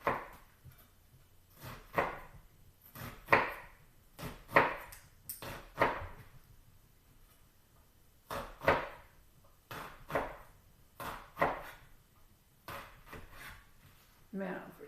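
Kitchen knife cutting thin slices through an onion half on a board for tacos, a steady series of close, crisp chops and cuts at a rhythm of roughly one per second, with faint background sound between strokes.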